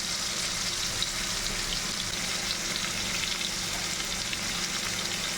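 Tomatoes frying in hot oil while a spicy Kolhapuri dry mutton dish is being cooked, giving a steady, dense sizzle that fills the whole stretch at an even level, with no voices.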